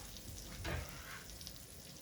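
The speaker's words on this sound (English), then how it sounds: "I'm gonna start by sauteing" Diced onion sautés in unsalted butter in a pan, with a faint, steady sizzle and one brief louder stir or clatter.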